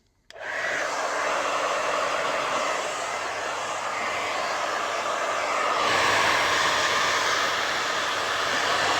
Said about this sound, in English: So hairdryer on and hot setting and warm her up.